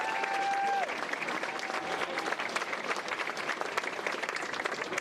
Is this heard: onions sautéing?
no